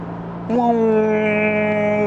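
Engine of a 2021 Kia Sorento 2.5L turbo with an 8-speed wet dual-clutch gearbox, rising sharply in pitch on a downshift and then holding a steady, strong droning note, near and fairly loud.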